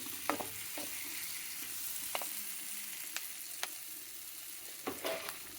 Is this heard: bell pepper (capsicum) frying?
yes